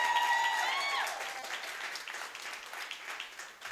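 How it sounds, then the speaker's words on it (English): A round of applause from the audience at a business workshop and expo as a company founder comes to the stage. Steady clapping continues under a fading sustained tone, moderately loud and a little distant. "Can we please give her a huge round of applause, ladies and gents?"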